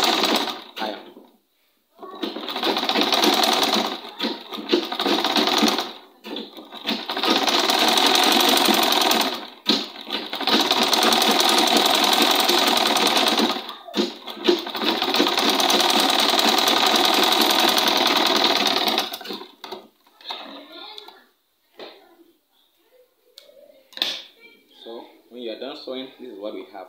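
Sewing machine stitching a bishop collar, running in long steady bursts separated by short pauses, then stopping near the end as a voice talks and fabric is handled more quietly.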